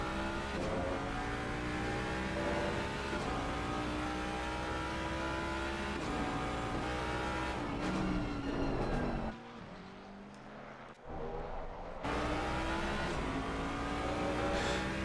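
A Ford Mustang GT race car engine in a GT3 racing video game drones loudly and steadily, rising and falling through gear changes, briefly cutting out near the end before surging back to a constant roar, with no talking.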